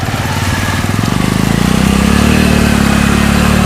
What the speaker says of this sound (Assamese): অমীৰে মোৰ বাইকখন বাৰু পাৰ কৰি দিলে এইখন বাইক হৈ থকা নাই